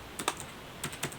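A few quiet keystrokes on a computer keyboard, two short bursts of clicks heard faintly at close range with no voices.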